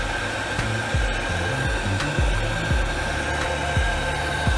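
A plumbing torch heats a copper pipe fitting before solder is applied, producing a steady close roaring hiss with a faint tonal hum and occasional low thumps or knocks beneath it, and no talking.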